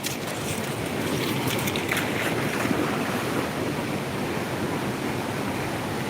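A waterfall gives off steady, broad rushing water noise at close range, constant and loud throughout, with some wind buffeting.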